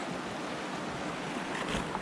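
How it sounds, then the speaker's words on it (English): The Baker River flows in a steady broadband rush on a snowy winter day, with wind noise mixed in and no talk. "This is the Baker River."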